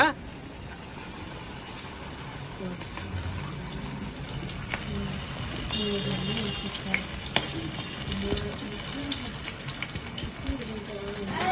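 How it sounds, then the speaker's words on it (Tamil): Powder-coated KFC-style chicken pieces fry in hot oil with a close, continuous sizzling crackle and bubbling that grows slightly busier and louder over time. "இப்போ நம்ம சூடா காஞ்சிருக்க எண்ணெயில போட்டு பொரிச்சு எடுக்கணுங்க"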